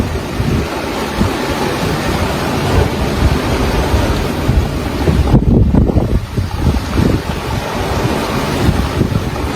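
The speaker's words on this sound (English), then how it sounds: "regular waves are about 3 meters, but sometimes like this one comes like probably more than 4." Wind roars steadily across an open ocean while waves of about three to four meters surge and crash around a small sailboat on a solo round-the-world race, a heavy wash building midway before easing back into continuous turbulent water.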